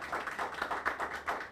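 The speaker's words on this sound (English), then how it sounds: "Can I ask that all of you just give our graduates a huge round of applause?" Graduates at a regional professional graduation ceremony receive clapping from the audience, a short run of rhythmic, fairly close hand claps with a regular pulsing beat.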